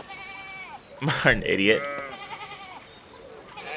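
Sheep bleating in the historical video game Pentiment, several wavering bleats near and far in a farmyard, with a voice speaking over the middle of the clip and soft ambient noise behind.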